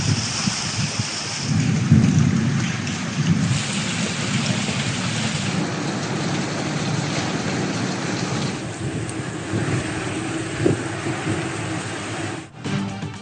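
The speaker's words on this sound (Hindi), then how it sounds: "लाहौर में प्री मानसून का जलवा। सुबह सवेरे तेज बारिश" Heavy pre-monsoon rain pours down in Lahore early in the morning, a steady dense hiss with rolling thunder rumbling underneath throughout.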